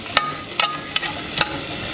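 Mixed vegetables frying in oil in a pan give a steady soft sizzle, with a few light clinks and scrapes from stirring on top.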